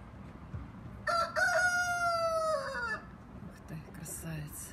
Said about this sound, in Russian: Кукарекаешь.